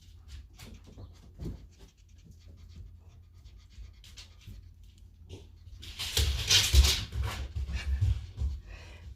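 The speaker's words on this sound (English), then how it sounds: "That is my dog acting like a crazy dog for no reason, attacking the floor in the kitchen." A dog attacking and scratching at a kitchen floor indoors, giving scattered scuffs and clicks with panting, then a louder burst of scraping and scrabbling toward the end.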